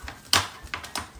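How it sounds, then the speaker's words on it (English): A can being opened in a home kitchen while cooking Lebanese lubia b' lahem: a short metallic click and pop, then two lighter clicks as the lid gives, close and fairly quiet. "So we'll take this can if it wants to open."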